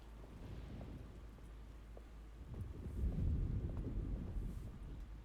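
Faint steady rain with low rumbling thunder and wind building in the middle, a stormy harbour atmosphere from the game No Safe Harbour, heard alone without talk.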